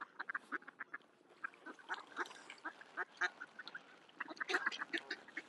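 Ducks and other birds being fed at a snowy local park, with a busy, continuous chorus of quacks and calls, close and fairly loud, with no talking.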